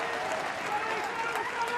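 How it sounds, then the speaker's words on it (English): Adelaide United fans in a stadium during an A-League match against Melbourne Victory applaud, a steady distant wash of clapping and crowd noise throughout. "Big round of applause from the Adelaide fans."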